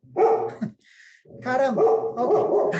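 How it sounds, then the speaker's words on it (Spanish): A female dog named Daisy barks angrily at passers-by in front of a house, several loud yapping barks in two bursts with a brief gap between, while a person speaks briefly over them. "perdón si escuchan la perra de fondo"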